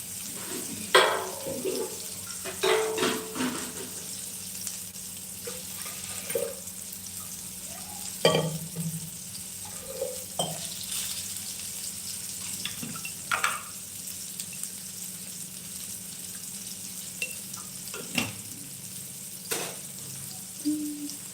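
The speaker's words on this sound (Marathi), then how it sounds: "आता फ्राय करून घ्यायचं आणि त्यामध्ये पाणी टाकून घ्यायचं" Frying in a pan over medium flame in a home kitchen gives a faint sizzle, broken by scattered clinks and stirring scrapes, then water is poured in with splashy gushes spaced through the sequence.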